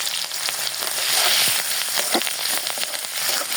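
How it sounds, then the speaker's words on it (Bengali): Onion and green chillies frying in hot oil, a continuous close sizzle with crackling pops and occasional stirring scrapes, alone without speech. "এই ভাজি তেলের মধ্যে আমি পেঁয়াজ দিয়ে দেবো, পেঁয়াজ আর কাঁচামরিচ দিয়ে দেবো।"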